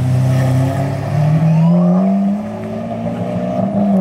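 Supercar engine revving hard as it accelerates up a hill, a loud close roar climbing in pitch and sustained for several seconds without talk.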